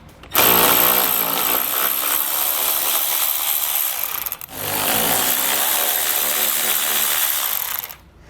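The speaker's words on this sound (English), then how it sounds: "We're going to have two 10mm bolts to remove on each side." A power tool runs steadily under the hood of a 2019 vehicle, loosening 10mm bolts during a base plate kit installation, with a loud continuous whir that pauses briefly midway before resuming.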